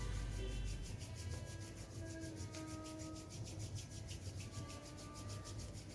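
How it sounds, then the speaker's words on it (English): Palms rub together slowly during morning yoga, giving a soft, steady, close brushing friction that continues for several seconds with no talking. "we'll rub our palms"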